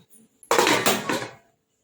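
A lid clanks down onto a metal kadai of heated water, set to steam a raw-potato snack: one sharp metallic clatter with a short ringing rattle that fades within a second.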